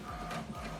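An HP Deskjet 2700e printer printing an alignment page, a faint mechanical whir with the carriage shuttling briefly, heard alone.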